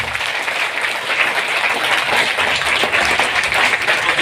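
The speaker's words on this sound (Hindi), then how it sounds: "मैं ये चाहता हूं कि अभी तक का सबसे बेस्ट ताली बजाएं अपने एमडी एंड सीईओ सर के लिए।" Audience at an AWPL business plan presentation in a resort near Jim Corbett, Nainital, applauding continuously and loudly for the company's MD and CEO, a dense, steady wash of clapping from many hands throughout.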